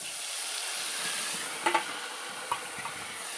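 Mustard paste hits a frying pan in a village home kitchen, giving a steady bright sizzle with a few sharp stirring clinks and scrapes close by.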